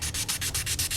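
Hand sanding a motorcycle sprocket with 600 grit sandpaper: steady back-and-forth rubbing strokes, about nine in a second, close and fairly loud with no talking.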